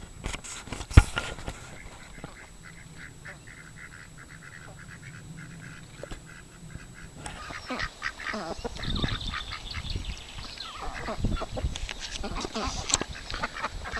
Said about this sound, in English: This is where the ducks and the chickens live.